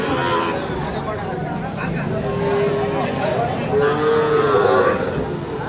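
Cattle, including young calves, lowing at a farm market, with two drawn-out moos and steady crowd chatter and talk underneath.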